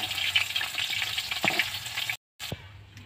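Lata fish frying in oil crackles and sizzles busily, with a couple of utensil knocks, then cuts to silence briefly before the sizzle resumes.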